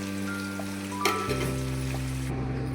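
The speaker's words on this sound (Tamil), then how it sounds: "இந்த மாதிரி எண்ணெயில் ஒரு கொஞ்ச நேரம் போட்டு எடுத்துகிட்டு அப்புறமா ஃப்ரை பண்ணிக்கலாம்." Food frying in hot oil while lunch is prepared in a home kitchen: a steady, close sizzle with a brief clatter about midway, then the frying carries on evenly.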